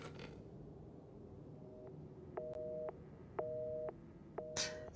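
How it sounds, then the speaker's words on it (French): A telephone tone in the Resident Evil 7 demo sounds faintly from a lifted receiver, repeating as steady electronic beeps roughly once a second over a low, dark ambient hum. "on décroche le téléphone, de toute façon, on a directement, eh bien, la tonalité"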